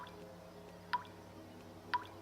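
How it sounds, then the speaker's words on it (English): Two single water drips in a PC video game, about a second apart, each a soft plop over a quiet low hum. "The sounds of water dripping almost anywhere."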